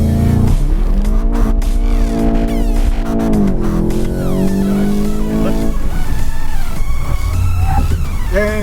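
A Volkswagen Golf GTI launches hard with its engine revving loudly and tyres spinning and squealing, the revs climbing in rising sweeps through several gears at close range.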